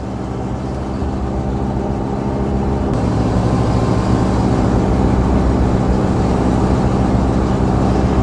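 A 1939 Mercedes 770 open touring car drives along with a steady, loud low engine rumble that holds without break, and nobody talks over it.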